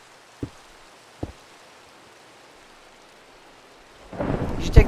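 Rain and thunder in Minecraft: two brief distant thunder cracks over a faint background, then steady rain swells loudly into the last second, with no talking.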